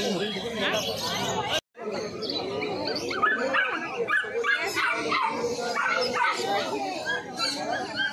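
Dogs and puppies at a street pet market, including golden retrievers, barking, yipping and whimpering in overlapping bursts close by, with people chattering and talking through the busy scene.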